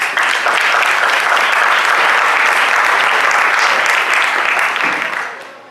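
Loud, sustained applause from a crowd at a Detroit town hall, dense and even for about five seconds before tapering off quickly at the end.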